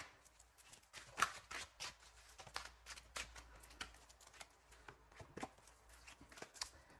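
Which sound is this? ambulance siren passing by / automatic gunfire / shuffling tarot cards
shuffling tarot cards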